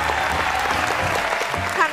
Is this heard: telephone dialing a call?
no